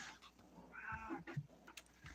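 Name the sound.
cat meowing in the background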